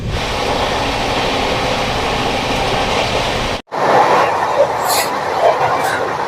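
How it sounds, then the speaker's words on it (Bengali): The Howrah Amritsar Mail pulls into Bardhaman Junction with a loud steady rumble of rolling stock. A sharp break cuts it off, and station noise follows with faint voices and higher clatter. "আমাদের ট্রেন হাওড়া অমৃতসর মেল এসে পৌঁছলো তার প্রথম হল্টে বর্ধমান জংশন"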